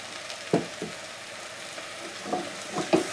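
Onions and spices sauté in a pot as chopped carrots are added for a carrot ginger chicken soup, a soft, steady sizzle broken by a few louder stirring scrapes and thumps, no voices.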